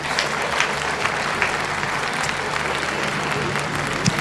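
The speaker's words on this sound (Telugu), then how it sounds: "ఒకసారి మనం తలుచుకుంటూ గట్టిగా క్లాప్ చేసుకుందాము" A seated audience at a stage event claps hard in dense, continuous applause, the individual hand claps blurring into a steady roar.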